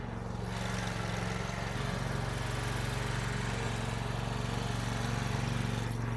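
A golf cart engine runs steadily close by, a loud, even, buzzing putter with a constant rhythmic pulse and no talking.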